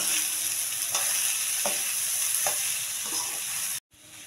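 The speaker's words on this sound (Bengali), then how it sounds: "আমি আর কিছুক্ষণ এখানে এভাবে একটু নেড়ে নেব।" Ingredients for basanti pulao fry in a pan with a constant bright sizzle, while a spoon scrapes through in regular strokes about every second before the sound cuts off abruptly.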